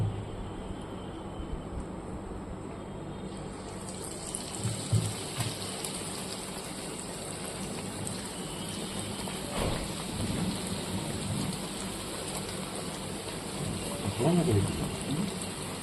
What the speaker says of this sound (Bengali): এবার আমি 1 বাই 1 এগুলোকে ভেজে নিচ্ছি।